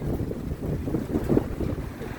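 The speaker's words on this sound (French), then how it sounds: "Il y a du vent, hein." Gusty wind buffeting outdoors near the water, a steady low rumbling roar with swells and bursts of microphone buffeting throughout, no voices.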